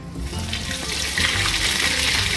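Cutlets frying in hot oil make a loud, continuous, close sizzle that crackles evenly throughout.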